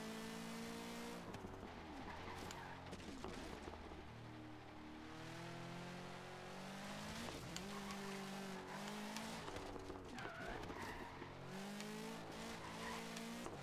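A race car in Forza Horizon 3 revs hard through its gears with repeated tire squeals and skids, its engine note rising and falling continuously and loud throughout.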